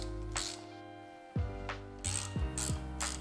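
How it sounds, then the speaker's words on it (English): A large torque wrench ratchets while tightening the hubless rear wheel of a Verge TS Pro electric motorcycle, giving a few separate sharp metallic clicking bursts close up among faint workshop hum. "torqued up as well using our big old torque wrenches and a small one"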